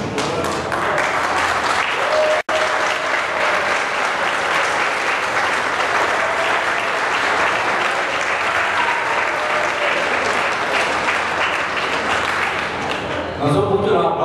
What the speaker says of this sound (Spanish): No son muchos los aplausos que he recibido, ¿sabes?